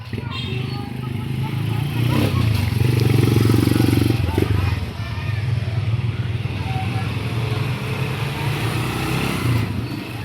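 An old motorcycle tricycle engine idles and runs steadily nearby, a rough continuous drone that swells briefly as if revved, with people talking over it.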